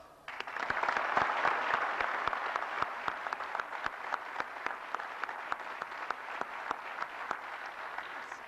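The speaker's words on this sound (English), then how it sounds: "we have to applaud them a lot" A commencement crowd applauding steadily for several seconds, dense clapping that starts abruptly and holds at an even level, with a few sharper individual claps standing out.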